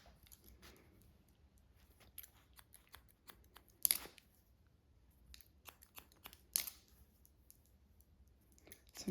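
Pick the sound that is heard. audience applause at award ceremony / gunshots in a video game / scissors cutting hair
scissors cutting hair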